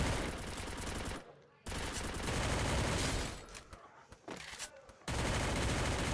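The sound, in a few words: M10 gun firing in a video game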